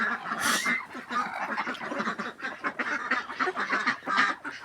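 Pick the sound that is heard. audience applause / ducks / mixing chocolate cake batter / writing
ducks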